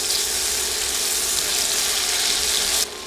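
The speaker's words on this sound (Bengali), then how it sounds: "দুই মিনিটের মতো পেঁয়াজ ভেজে দিচ্ছি" Chopped onions fry in hot oil in a pan, a steady, loud, even sizzle that holds for about three seconds before dropping slightly at the end.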